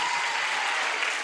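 A television game show studio audience applauds, a dense, steady wash of clapping filling the whole short stretch with no voices over it.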